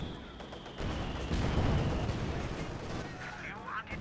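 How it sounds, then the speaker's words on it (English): Mortar fire in Company of Heroes 2, shells landing in a dense rumble of booms and crackling gunfire while a commentator talks over the battle. "Conscripts being pounded here with the mortar."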